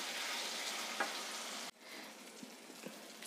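Tomatoes cooking down in a pan, a soft steady sizzle that drops abruptly to a quieter simmer halfway, with occasional light stirring clicks.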